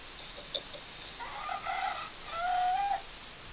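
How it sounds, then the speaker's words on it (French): A rooster crows, distant and fairly faint, over steady background hiss in a menagerie setting in central Paris. A short call comes first, then two longer crows. No dog barking stands out. "Il y a les chiens qui aboient, il y a un coq aussi là."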